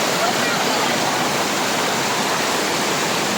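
Small waterfall pouring steadily, a dense close hiss of falling water that stays even and loud from start to finish.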